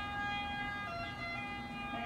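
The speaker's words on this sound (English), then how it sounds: "And that, my friends, is an ambulance." Ambulance siren out in an Italian town, heard through a large open window. It is a steady, sustained tonal wail over a constant background, moderately distant and without any voices.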